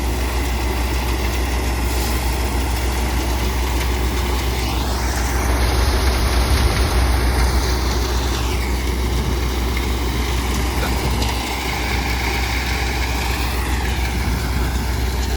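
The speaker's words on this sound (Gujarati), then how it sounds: "અત્યારે આપણે એને થ્રેસર માંડી દીધું હોય, ચાલુ કરી નાખ્યું છે." A tractor-driven thresher running while threshing a cumin crop, giving a loud, steady mechanical drone with a constant low rumble and a broad whirring roar that carries on unbroken throughout.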